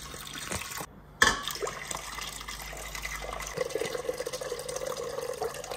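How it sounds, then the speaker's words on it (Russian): Water splashes and gurgles as it pours out of jars steadily after a brief pause, a continuous close liquid rush with faint clinks. "Воду из банок сливаем."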